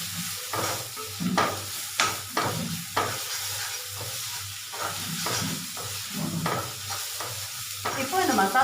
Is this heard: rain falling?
no